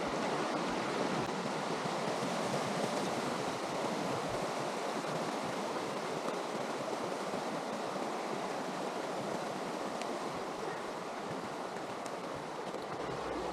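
A campsite creek flows in a steady, broad rushing wash of water, loud and unbroken throughout, with no voices.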